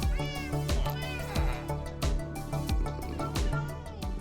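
Cats meowing in the video game Minecraft, a string of repeated mews over a steady rhythmic game background.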